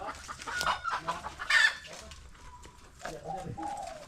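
Chickens cluck and squawk in a busy farmyard mix, several birds calling at once with a louder squawk midway and low murmurs beneath.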